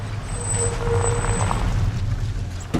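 A car braking to a stop, low engine rumble and a thin high squeal of brakes as it slows, ending with a sharp knock.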